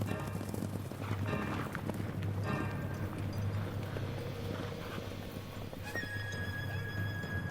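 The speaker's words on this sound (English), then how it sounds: "they put Temujin on a horse and sent him away to flee." A horse clip-clops steadily close by for the whole stretch, with a high whinny breaking out near the end over a constant low rumble.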